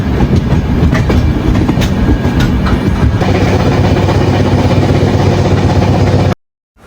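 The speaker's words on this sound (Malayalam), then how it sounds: "ട്രെയിൻ കുറച്ച് ലേറ്റ് ആയിരുന്നു കേട്ടോ, ഒരു 11 മണിക്കൊക്കെ ട്രെയിൻ വന്നത്." A passenger train pulls into a railway station in Kerala, a loud, steady rumble of wheels and carriages with clickety-clack rail joints throughout, cutting off abruptly near the end.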